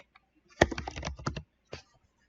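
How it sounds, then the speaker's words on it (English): Burst of rapid keystrokes on a computer keyboard while searching for a custom event in a game engine's event graph, a quick cluster of clicks followed by a pause and one last keypress, close and clear with no talk. "let's type in custom"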